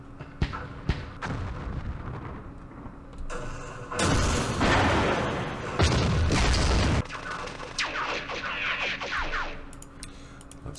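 Gunfire and artillery from the Vietnam war game Campaign Series Vietnam, set in the Battle of Hue: sharp cracks and scattered shots lead into heavy, sustained booming blasts, then fade to a trailing crackle of smaller reports.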